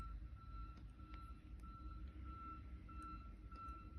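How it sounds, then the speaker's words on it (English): A council garbage truck collecting roadside rubbish sounds its reversing alarm outside, a steady run of faint, evenly spaced high beeps heard from a distance over a low background rumble. "Sorry if you can hear that beeping out the front. It's the council picking up roadside rubbish today."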